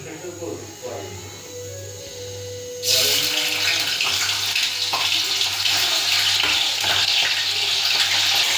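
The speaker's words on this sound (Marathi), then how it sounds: "पनीर आपण तेलात आता फ्राय करून घेत मला ब्राऊन करून घ्यायचं" Paneer frying in hot oil in a pot, with a loud broadband sizzle that starts abruptly partway through and then holds steady over a low electrical hum, with a voice speaking earlier.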